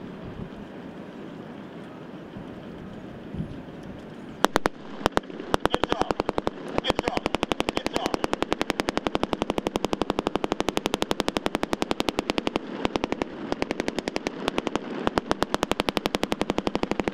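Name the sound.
gunfire at special operations forces demonstration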